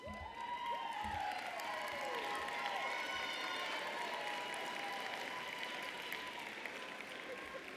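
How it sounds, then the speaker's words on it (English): Applause and cheering from a crowd fill a university commencement ceremony, a dense, sustained roar of clapping heard from a distance, with faint voices and whoops rising above it. "give them a round of applause"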